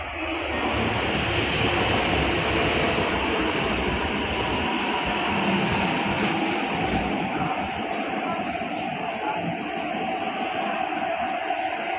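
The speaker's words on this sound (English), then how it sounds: "The train to Admiralty is arriving." A Hong Kong MTR subway train arriving at a platform rumbles steadily and loudly for the whole stretch, a continuous broad roar of wheels and motor without pauses or voices.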